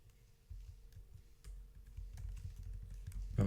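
Typing on a computer keyboard, a quiet, rapid run of close key clicks that grows busier toward the end, with no talking.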